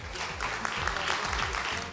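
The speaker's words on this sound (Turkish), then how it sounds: "Alkışlarınız Şenol İpek için." A studio audience applauds dancer Şenol İpek on a dance competition show, a dense wash of clapping that is fairly soft, with low background music underneath.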